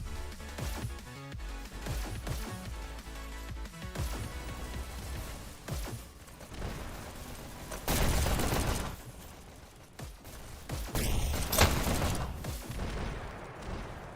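Bursts of SMG fire in the VR shooter Hyper Dash during an e-sports match, rapid rattling volleys mixed with explosions and game effects, loud and dense across the stretch.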